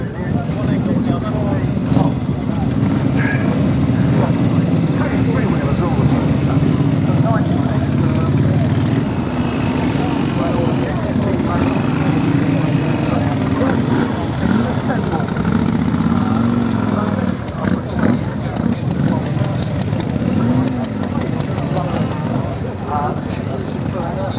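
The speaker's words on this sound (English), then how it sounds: "And they are a very nice bike, can't beat the sound of the Triumph." A Triumph motorcycle engine runs at a vintage motorcycle club founders day gathering, idling steadily and fairly close throughout while people talk over it.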